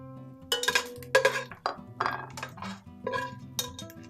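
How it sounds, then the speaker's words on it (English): A slotted spoon clinking and scraping against a pan while bacon is lifted out of hot oil, a series of close metallic taps and rattles in uneven bursts. "Using a slotted spoon, let that oil drain"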